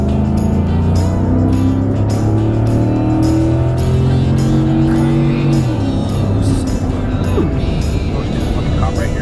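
A Ford F150 XLT pickup truck pulls hard along a road, its engine note rising in loud steady harmonic tones that climb then drop, with speech over the drive.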